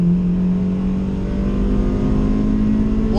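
The Chevstang, a custom Chevy-Mustang build with a bad distributor, accelerates on the road to overtake another car. Its engine drones loud and close in a sustained rising pitch, with dense road and wind rumble underneath.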